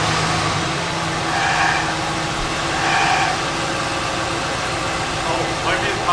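An old Mercury Cougar barn find runs at idle with a steady droning hum, a faint whine that may come from low power steering fluid, and people talking nearby.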